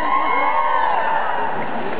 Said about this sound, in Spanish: Para un aplauso para el hermano de Casasola